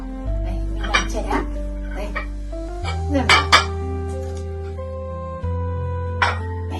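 A set of small plates from a gift dinnerware set is handled, producing a few bright clinks and taps of plate against plate while someone talks.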